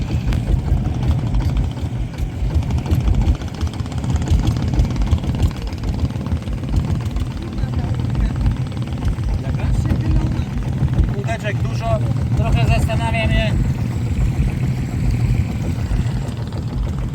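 A boat's diesel engine in Thailand drones steadily and loudly throughout, a continuous low rumble with a voice talking over it briefly near the end.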